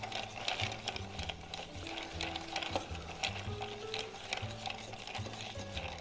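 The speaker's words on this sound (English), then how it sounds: "Going to stir it down now." Ice rattling and clinking steadily in a mixing glass as a three-ingredient vodka cocktail with Benedictine is stirred down, a quick, continuous tinkling rhythm over faint background music.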